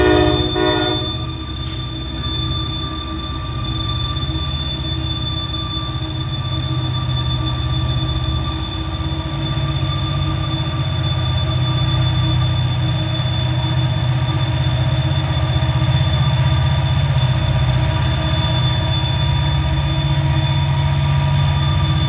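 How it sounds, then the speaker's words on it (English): SD70ACe diesel locomotives in notch 8 pull a train uphill into the Alleghenies. The heavy engine drone is loud and continuous, with a tonal whine and wheel sounds layered over it. "SD70 ACUs in Notch 8 shuffling the train uphill into the Alleghenies."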